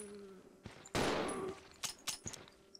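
Gunshots in Resident Evil 0 HD Remaster, a loud single blast with a ringing tail followed by a few quicker, fainter shots or impacts in a quiet setting.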